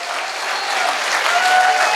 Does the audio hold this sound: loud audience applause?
yes